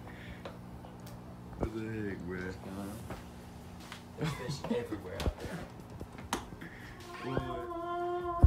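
A pet cat meows several times indoors, short rising and falling calls between bursts of close conversational talk from people in a room, with some household clatter.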